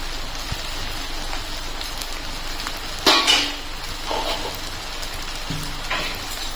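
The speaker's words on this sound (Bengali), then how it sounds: "এখন আমি এর মধ্যে দিয়ে দিচ্ছি 1 চামচ ঘি।" Ghee added to semolina upma in a pan and stirred, giving a steady low frying crackle with a sharper sizzling burst as it goes in, then soft spatula scrapes against the pan.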